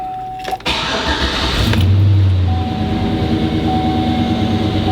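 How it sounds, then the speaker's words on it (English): A 2005 Chevrolet Silverado Cateye pickup cranks and fires up after heavy maintenance, with a short starter whir followed by a loud engine catch that settles into a steady idle close by. "let's go ahead and turn the truck over and make sure she runs"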